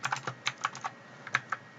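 Computer keyboard keys pressed in quick clusters, about a dozen crisp clacks with a short pause in the middle, close and clear with no voices.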